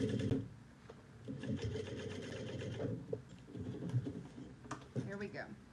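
Sewing machine stitching a quarter-inch seam up the side of a drawstring bucket bag, running steadily with a dense mechanical whir and brief pauses, with a voice talking over it.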